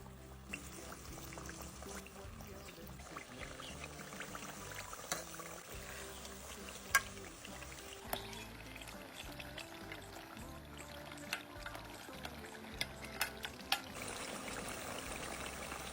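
Chicken pieces fry in a pan with a soft, steady sizzle and scattered small pops, heard faintly with no talking.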